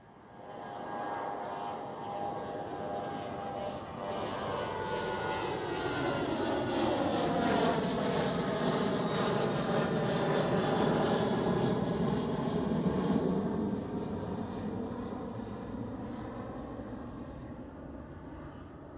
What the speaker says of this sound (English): There is the Transavia 737-800.